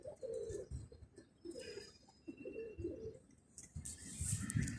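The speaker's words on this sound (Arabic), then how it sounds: "وادي حمامنا اهو." Pigeons coo close by in low, throaty rolling calls repeated in a loose rhythm, with some wing flutter and scuffling near the end.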